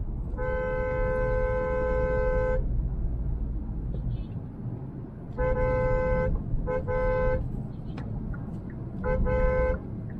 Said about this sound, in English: A bit of a traffic.